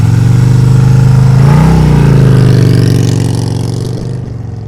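Motorcycle engine idling and pulling at slow speed during advanced slow-speed riding practice, a close, loud, steady low putter that rises briefly as the clutch is fed out, then fades slightly as the bike rolls away.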